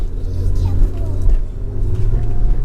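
A car climbs a mountain road near Pakse in southern Laos, its engine a low, close, steady drone with slight rises in revs. Voices can be heard faintly under the engine.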